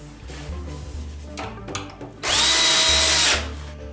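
Power drill driving screws into the wall mount of a retractable folding table, with a loud, steady whine of about a second standing out after quieter handling and tapping sounds.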